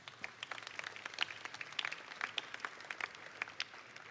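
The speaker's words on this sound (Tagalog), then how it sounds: "Palakpakan nyo naman si God." A live audience at a talk claps together in a brisk, fairly quiet round of applause, with many hands patting quickly and unevenly, somewhat distant and sustained throughout.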